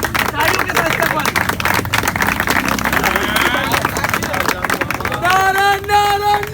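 Clapping and cheering from a crowd welcoming a speaker at a Pakistan Peoples Party rally gathering, dense and continuous with chatter and shouts mixed in, a sustained tone near the end.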